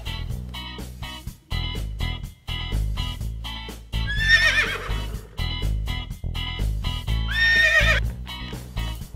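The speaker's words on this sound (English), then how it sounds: "Brown horse." A brown horse gives two loud, shrill whinnies over a steady rhythmic clopping beat that runs throughout.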